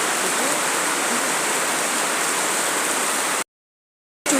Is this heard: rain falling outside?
yes